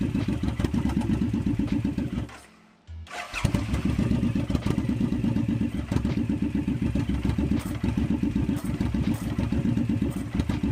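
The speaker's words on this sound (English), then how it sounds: "if you do listen closely, you can hear the sound coming from the clutch housing." Suzuki M109R motorcycle engine running with noise from the clutch housing: a loud, steady, rough idle with clattery texture, briefly cutting out and then restarting before it continues running.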